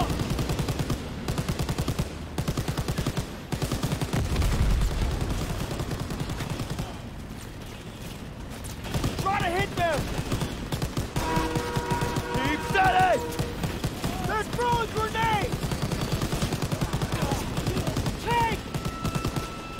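Rapid gunfire from the video game Call of Duty WW2 rattles in sustained bursts during a train sequence, loud and continuous, while game voices and shouting break in over the shooting.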